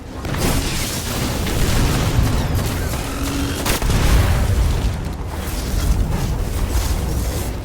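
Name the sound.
explosion in the video game Destiny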